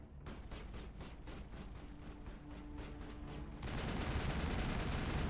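Gunfire in the Mass Effect video game: a rapid string of evenly spaced shots, then a denser, louder burst of noisy fire toward the end, heard alone without talking.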